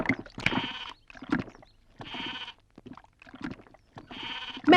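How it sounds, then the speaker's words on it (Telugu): A goat bleats repeatedly close by, four or five nasal, wavering cries separated by short pauses, loud and clear with no talking over them. "మేక నమ్ముకురమ్మని పంపిస్తే మరిది గారు మళ్ళీ వెనక్కి తెచ్చారెందుకో"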